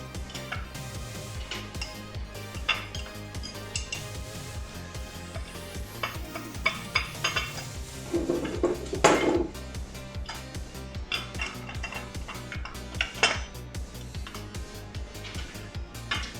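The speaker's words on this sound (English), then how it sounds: "So we take these short little Allen key bolts, throw them in these holes." Short Allen key bolts are dropped into the holes of a monitor mount, giving a run of close metallic clinks, taps and light rattles, irregular and fairly quiet throughout.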